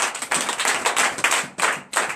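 Steady applause from a church congregation during a night prayer service, dense clapping that swells and briefly dips a couple of times before surging again.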